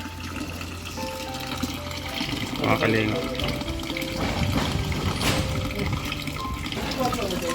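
Clear water pouring steadily from a water pump at a house in Kalinga, a continuous splashing flow beneath people talking nearby.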